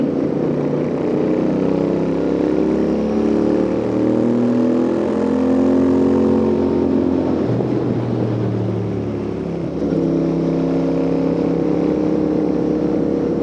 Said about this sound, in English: it absolutely loves to rev this